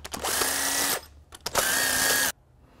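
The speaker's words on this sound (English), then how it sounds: "Now we already broke these cylinder head bolts loose, so now we're just taking them out." A power tool, likely an impact driver or drill, spinning out loosened cylinder head bolts from a Hayabusa motorcycle engine during teardown; two close whirring bursts of about a second each, separated by clicks and a short pause.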